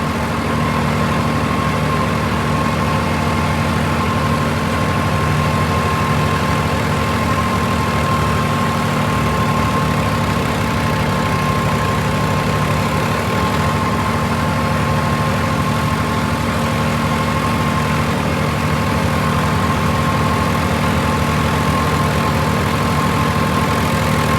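A Swaraj 969 CRDI tractor engine idles steadily and close by, a continuous low rumbling drone with no talking.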